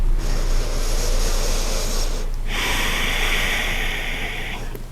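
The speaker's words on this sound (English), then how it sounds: "Breathe deeply." Deep, steady breathing during a morning vinyasa lower-body stretch, two long airy breaths heard close and fairly loud over a constant low hum, with no talking.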